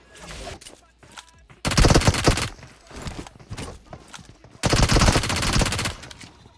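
Rapid bursts of automatic gunfire in a video game fire in two loud volleys, with scattered single shots and game effects between them.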